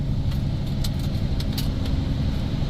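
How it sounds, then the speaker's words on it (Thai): Vehicles pass on the road into a stone mill, a heavy engine rumble running steadily and close throughout, with light rattles and clinks on top. "เส้นที่เข้าโรงโม่เนาะก็รถก็จะเยอะสวนเข้าสวนออกกันทั้งวัน"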